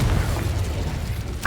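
A Confringo fire-blast spell exploding in Hogwarts Legacy: a short, loud, deep boom with a rumbling burst, cut off quickly by a fresh sharp sound at the end.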